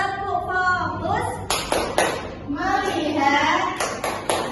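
A classroom group claps out a short rhythmic focus chant, sharp bursts of several claps at a time standing out among loud children's voices and a teacher speaking.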